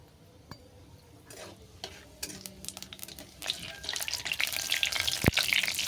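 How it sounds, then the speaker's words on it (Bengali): Panch phoron, the Bengali five-spice seed mix, frying in hot oil while being stirred; a soft crackle grows into a steady, brighter sizzle with scattered pops and a clink of a utensil, close and alone. "ফোড়নটাকে ভালো করে ভেজে নিচ্ছি।"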